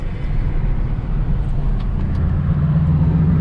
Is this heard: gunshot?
no